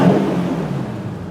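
A Toyota Tundra pickup truck engine, push-button started, turning over and settling into a steady low idle, loud and close, with no voices.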